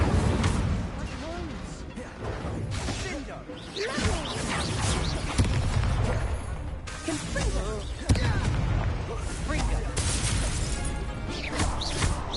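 Combat sounds from the video game Hogwarts Legacy as the Incendio fire spell is cast, dense crashes, booms and whooshing bursts layered continuously alongside game voices and music.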